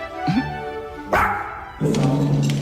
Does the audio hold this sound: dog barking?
yes